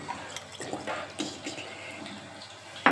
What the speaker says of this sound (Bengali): এর মধ্যে আমি একটু জল দিচ্ছি